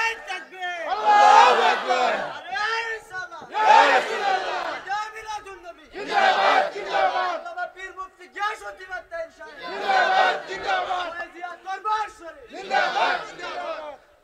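A large crowd chants slogans with raised hands in rhythmic bursts, several loud waves of massed voices rising and falling in turn, close and strong, with short pauses between each shout.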